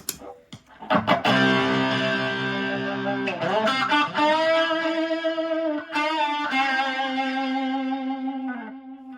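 Distorted electric guitar notes through a Danelectro Reel Echo pedal, with heavy echo and a thick sustained tone ringing and repeating as it slowly fades, loud and close with no talking.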